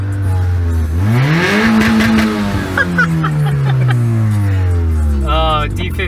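A small Honda with a D15 engine revs up hard and holds near the rev limiter, its loud rising whine nearby and steady, while people talk and shout excitedly over it.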